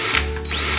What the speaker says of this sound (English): And now we drill.